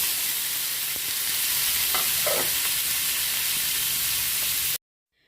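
Paneer fries in a pan with a constant loud sizzle and a brief burst of crackling, then the sound cuts off abruptly near the end.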